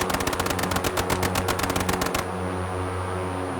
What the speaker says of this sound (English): Okay, so it's gun firing.